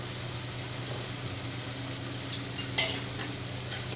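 Biryani ingredients sauté in oil and ghee in a pot, producing a soft, continuous sizzle with a few utensil clinks near the end and no talking.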